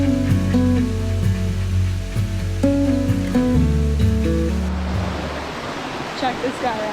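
A hidden waterfall reached on a truck camping trip gives a steady rushing roar that takes over in the last seconds, after a stretch of music with clear melodic tones fades out.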